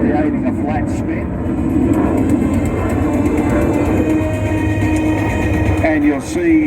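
RAAF F-35A Lightning II jet performing a slow, gear-down dirty pass at the Central Coast Airshow 2022, a loud, steady roaring drone, with a commentator talking over it.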